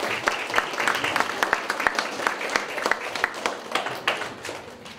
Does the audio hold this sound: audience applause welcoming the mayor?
yes